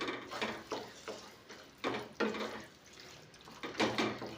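Tamarind juice being stirred into okra stew in a pot, giving a few soft wet scraping and sloshing strokes at an uneven pace, fairly faint, with no voices.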